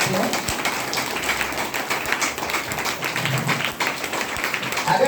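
A seated audience claps at a motivational business seminar in Hindi, steady dense patter of many hands throughout, fairly loud and continuous.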